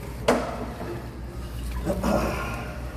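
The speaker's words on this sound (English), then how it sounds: "you still hear it flushing and moving" Water flushing and rushing through the bottom of a drain trunk line, a steady hissing wash with a couple of dull knocks, heard close with no voices.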